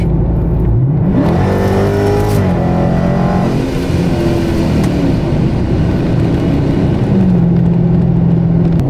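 A Procharger-supercharged car accelerates hard, its loud engine note climbing through rising pulls with brief shifts between them, heard close up and continuously with no talk.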